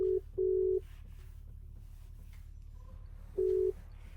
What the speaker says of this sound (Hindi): अबे यार अब फोन करना पड़ेगा गुड़गांव महिंद्रा में, या विक्रम भैया को करता हूँ